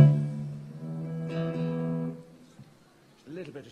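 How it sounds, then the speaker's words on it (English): Electric guitar tuned up on a festival stage, sustained harmonic-rich notes ringing and decaying over a few seconds, then a brief quieter plucked pitch near the end. "A little bit of tuning up there."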